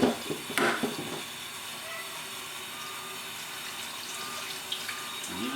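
Tap water runs steadily into a kitchen sink at a dish-washing spot, making a soft continuous hiss and splash. A few clinks come near the start, and the flow stays fairly quiet throughout.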